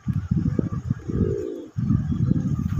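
A pair of red Raj Golla pigeons cooing close and loud, with steady low rolling coos broken by a brief pause midway.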